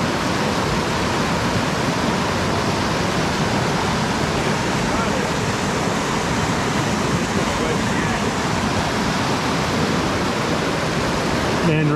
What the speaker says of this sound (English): right down there, just around the corner, is Velvet Falls